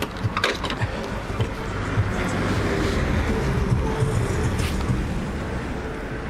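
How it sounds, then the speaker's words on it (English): A Fiat car doing burnouts in an underground parking basement gives a loud, continuous roar of engine and tyre noise that echoes off the concrete and swells steadily throughout. "it's the lovely Fiat making burnouts"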